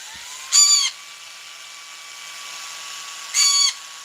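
A pet bird gives two short, loud, shrill calls a few seconds apart, indoors over a steady hum of background noise.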